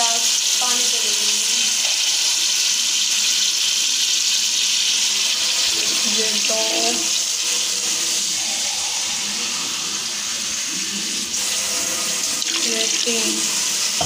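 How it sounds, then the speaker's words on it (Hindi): Water runs in a steady, bright gush into a pot of rice for chicken pulao, loud and close, with a clattering vessel and a few brief spoken words over the pouring. "और अब मैं इसके अंदर डालने लगी हूँ पानी।"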